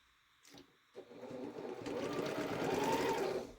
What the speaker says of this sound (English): Let's go ahead and sew one together so I can show you.